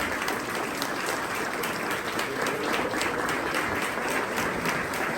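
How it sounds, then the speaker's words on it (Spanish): Sustained audience applause welcoming a retired magistrate at a formal event, a steady dense wash of many hands clapping at moderate distance with no voices over it. "Ahora vamos a recibir con un fuerte aplauso a nuestra magistrada emérita"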